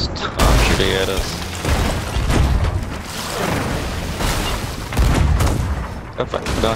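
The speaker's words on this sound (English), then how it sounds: "Stop shooting at us." Cannon blasts and gunfire from the Sea of Thieves video game during a skull fort battle come as repeated heavy booms and bursts of shots, loud and close, mixed with mechanical clatter.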